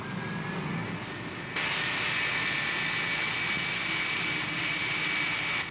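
A jet engine whines and roars steadily, its pitch stepping up as it spools during start-up, loud and close.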